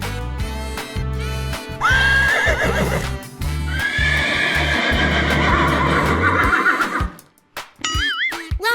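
A horse neighs in a long, loud, quavering whinny over steady, low rhythmic hoof clip-clops, then gives a shorter second whinny after a brief lull, with no talking.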